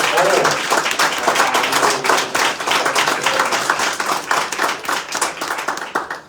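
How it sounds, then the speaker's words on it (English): Audience applause at a mayor's press event announcing housing grants, dense continuous clapping from a crowd lasting several seconds, loud and close, slowly thinning toward the end. "let's give a big round of applause to"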